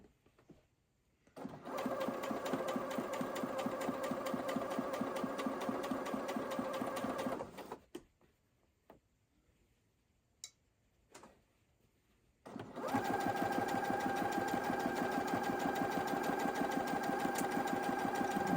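A sewing machine stitches an apron seam in two long, steady runs of fast mechanical whirring, stopping for a few quiet seconds in between before starting again close up.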